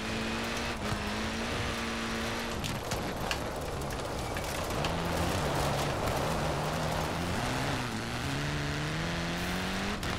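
A car engine in the racing game Forza Horizon 4 drones and climbs through gear changes, rising and dropping in pitch with steady revving throughout.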